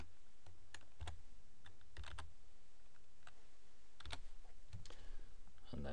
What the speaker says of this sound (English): you can just type it in.